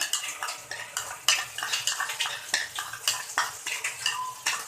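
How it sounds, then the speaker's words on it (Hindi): Leftover masala frying in oil for masoor dal, stirred briskly with a metal spoon against the pan, giving steady scraping clinks over a continuous sizzle, close up with no voices. "वो भी फ्राई करेंगे कि हमारा मसाला भी कच्चा ना रहे। ये देखें, ये भी फ्राई हो जाएगा ऑयल में।"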